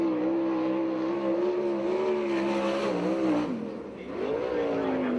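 A sprint car at a USAC/CRA race on the Perris dirt track, its engine a loud, steady roar that shifts pitch, dips briefly as it backs off, then climbs again.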